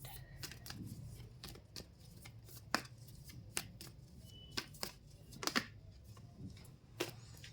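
Tarot cards are shuffled, handled and drawn during a reading, producing soft papery flicks and occasional crisp snaps, quiet and close, with a faint background hum.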